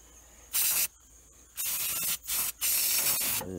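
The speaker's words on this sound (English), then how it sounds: "I love the smell of spray paint in the morning." Aerosol spray can applying rustproofing coating to a Ford F150 truck frame, four short loud hissing bursts of spray close up, separated by brief pauses.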